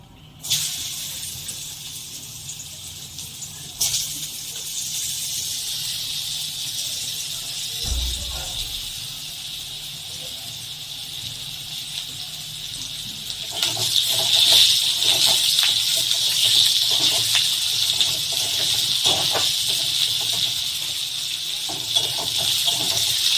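Potato pieces sizzling in hot oil in a pan while cooking a spicy amudi fish curry, a steady close hiss that swells louder partway through, with brief clinks of stirring.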